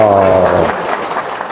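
Audience applause at a talk on money and wealth, starting with a voiced exclamation from one person over the clapping, then a dense wash of many hands that continues steadily to the end.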